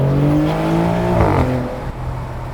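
A Maserati GranTurismo Trofeo's twin-turbo V6 revs loud and close, its pitch climbing and then falling away as the throttle eases, with a brief dip before settling back to a steady drone.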